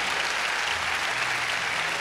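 Sustained, vigorous applause from a church congregation during worship, a steady dense roar of many hands clapping with no pauses.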